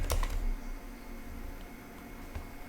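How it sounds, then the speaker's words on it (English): Quick bursts of keystrokes on a computer keyboard entering a password, close and fairly soft, a cluster of clicks at the start then sparse taps over faint hiss. "I'll type the password in"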